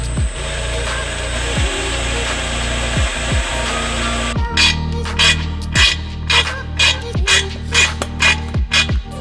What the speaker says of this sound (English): I need to drill and tap another hole.